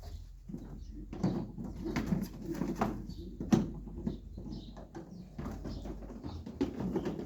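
Racing pigeons offered for sale coo softly in a loft, low repeated coos with occasional wing or perch knocks, quiet and close, with no talk.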